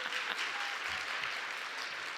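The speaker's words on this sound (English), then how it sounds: "yeah, you can clap." Applause from the audience at a professional forum as the second award recipient is announced, a steady broadband patter filling the full stretch at moderate level with no voices on top.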